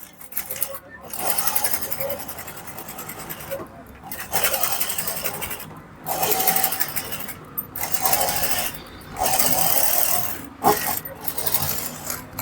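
A sewing machine stitching a puff sleeve runs in several loud, rapid whirring bursts separated by short pauses, close by, with someone talking between and over the runs.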